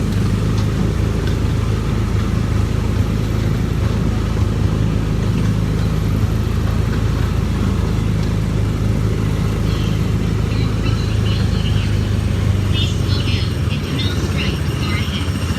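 Tomorrowland Speedway ride car at Magic Kingdom during Christmastime, its small engine droning steadily and loud throughout with a constant low rumble, surrounded by crowd ambience and faint voices.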